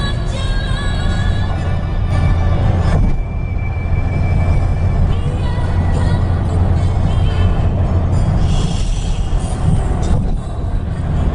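A train runs alongside a car on the left during a road trip in Indonesia, giving a loud, steady rumble with thin squealing tones over it, continuous throughout, with a brief voice in the car.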